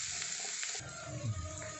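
Washed bitter gourd pieces sizzle and fry in a hot pan with oil, a steady bright crackle running throughout with soft stirring bumps, close and alone without voices.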